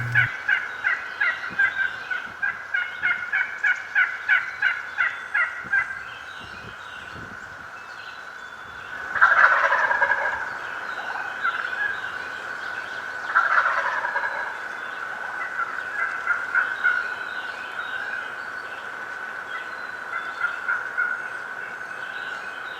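Wild turkeys, jakes and hens, call outdoors in spring: a rapid run of rhythmic clucks and yelps opens, then two loud rolling gobbles break out midway, followed by softer scattered calls over a steady insect-like hum.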